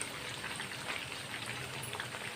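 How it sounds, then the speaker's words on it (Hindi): Chopped onion fries in hot oil for a chicken and potato curry, giving a steady, dense sizzle and crackle with no talk over it. "ऑयल में प्याज को फ्राई कर रही हूँ,"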